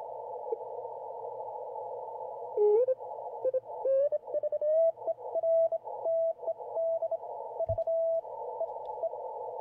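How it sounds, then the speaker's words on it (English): CW Morse code signals come from a Yaesu FT-710 radio as steady beeping tones over band hiss, with a tuning sweep that settles onto the signal and keying continuing throughout. "Are them CW signals?"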